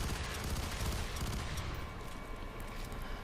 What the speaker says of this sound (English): So here's the assault rifle in all its glory.